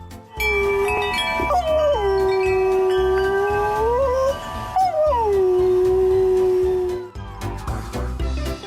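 A dog howls in long, sustained, wavering tones, two drawn-out howls rising and falling one after the other, loud and close, in an animated cartoon with no speech.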